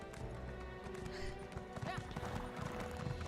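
Horse hooves clip-clopping in Elder Scrolls Online, a quick rhythmic trot of game hoofbeats under background music and a voice.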